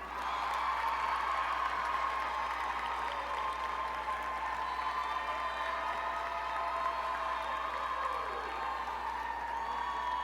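Arena crowd at the 2025 ACC Women's Gymnastics Championship meet applauds continuously with scattered cheers and whoops, a dense, even wash of clapping held for about ten seconds.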